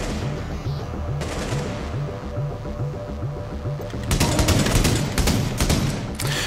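Rapid automatic gunfire in the shooter video game Tom Clancy's The Division, steady rhythmic bursts that grow louder and denser with sharp cracking shots toward the end.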